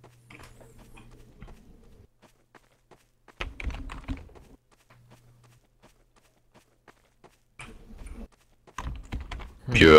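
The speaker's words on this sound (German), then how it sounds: "Irgendjemand führt den Tanz auf seiner Tastatur rum" Rapid clicking of computer keyboard keys comes in short bursts across a voice chat during a Trouble in Terrorist Town game session, with a few thumps between the bursts.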